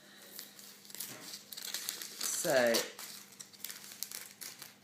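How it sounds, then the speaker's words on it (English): Icing-covered scissors snipping and crinkling through a thin plastic document sleeve close up, a burst of crackling cuts in the middle, with a brief spoken word at the start. "I'm just cutting open the bag on two sides and just leaving it closed at the top."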